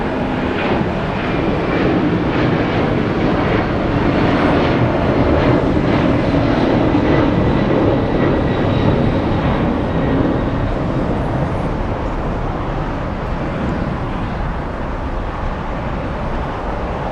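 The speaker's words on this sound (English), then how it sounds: "Big freighter taking off right now. We have the Ghost 767 taking off." A Boeing 767 freighter jet takes off at LAX, heard as a steady, loud broadband engine roar that holds constant throughout without pause, with no talking over it.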